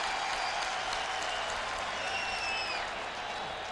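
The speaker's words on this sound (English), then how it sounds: "And Thurman Thomas gets the crowd excited." A stadium crowd at an American football game, Bills hosting the 49ers in 1998, roars and applauds in a dense, steady wash of cheering throughout.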